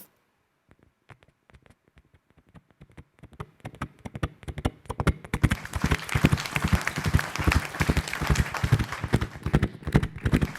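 A performer's mouth imitates a galloping horse on a comedy stage show: sparse clopping beats that quicken into a fast, steady gallop and grow louder toward the end.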